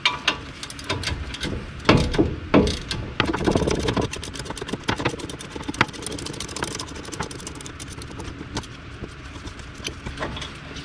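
A ratchet wrench loosens bolts on the brakes of a 1994–2001 two-wheel-drive Dodge Ram 1500, giving bursts of close, rapid clicking and metallic rattles over a steady garage background.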